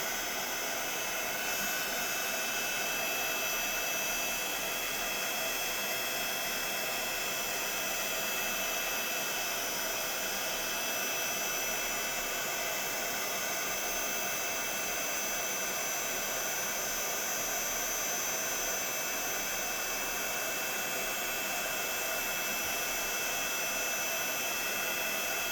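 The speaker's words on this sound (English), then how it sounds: "we're just going to hold that heat tool still, and then as soon as we see that powder start to melt and change" A heat gun blows continuously to melt embossing powder on a card, a steady loud close whoosh with no breaks.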